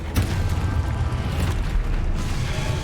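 A fire-blast spell cast in the Hogwarts Legacy video game bursts with a loud low boom and rumbling rush that sustains for a few seconds, a sharp onset near the start.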